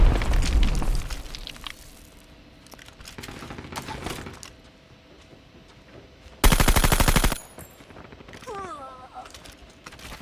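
Automatic gunfire and shots in the mobile shooter game Call of Duty Mobile, with a Bruen MK9 rifle and Striker 45 in use: loud bursts near the start, scattered shots, then a dense sustained volley midway, with game effects after.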